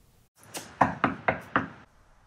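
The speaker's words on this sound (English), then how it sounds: "But then later there was another knock at the door." Four sharp, evenly spaced knocks on a door, close and distinct, following a softer initial tap, with no talking over them.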